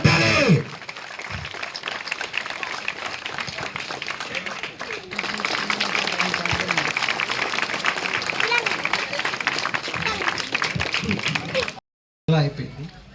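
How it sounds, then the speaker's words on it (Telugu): An audience at a felicitation during a volleyball tournament and medical camp claps steadily for about eleven seconds, a dense, sustained patter of many hands that cuts out abruptly, then briefly resumes. "అందరూ చప్పట్లు కొట్టాలి."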